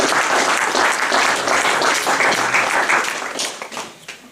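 A church congregation bursts into sustained applause, dense and enthusiastic clapping that stays strong for several seconds before tapering off toward the end.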